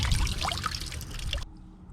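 Sediment-laden water pours from an RV water heater drain, a Dometic GC6AA-10E, into a bucket, a short close splashing trickle that cuts off abruptly near the end.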